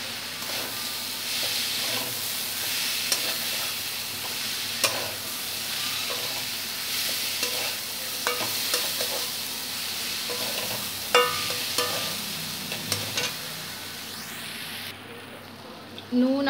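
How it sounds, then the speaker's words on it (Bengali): Rice and moong dal for Bengali khichuri being stirred with salt and turmeric in a pot, a continuous soft sizzle under repeated scraping and clinking of a spoon over a long stretch, with a brief faint voice near the end. "নুন আর হলুদটা ভালো করে চাল আর ডালের সঙ্গে মিশিয়ে নিয়ে"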